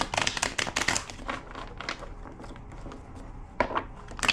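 Cards being shuffled by hand, a quick burst of riffling snaps followed by a softer lull and another short flurry, close and crisp with no talking.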